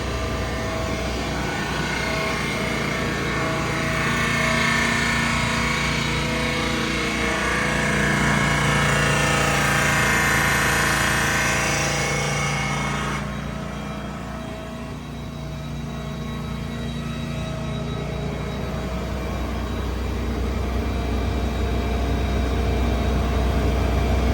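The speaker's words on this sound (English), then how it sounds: "The compressor comes on. Builds air nice and quick." Air compressor on a 2019 Kenworth T270 truck with a PX7 engine, running over a loud steady engine drone; a continuous hissing and whirring rises and then cuts back partway through.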